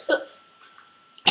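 A short, sharp cough followed by a quiet pause, then a second abrupt cough burst at the end; close and fairly loud.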